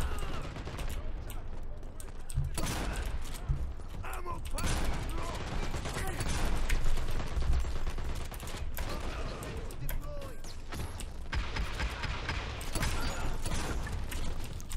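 Bursts of automatic gunfire and scattered shots in the shooter game Dirty Bomb, rapid rattling volleys coming and going over several seconds, with a player talking at moments in between.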